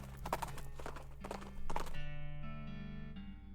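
Horse hooves clip-clop in a rhythmic riding gait in the video game West of Loathing, a few clear strikes over a steady musical drone, followed by sustained game music tones.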